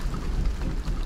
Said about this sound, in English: It's raining and stuff.